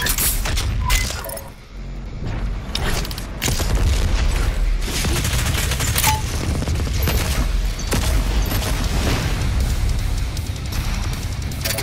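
BFG 10,000 firing in Doom Eternal, a series of heavy booming blasts and mechanical crashes spread across the stretch, loud and dense with brief gaps between bursts.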